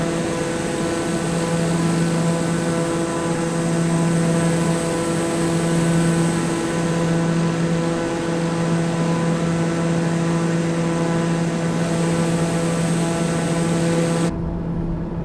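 A plane's engine in Microsoft Flight Simulator 2020 holds a loud, steady droning tone with strong sustained harmonics for about fourteen seconds before cutting off abruptly.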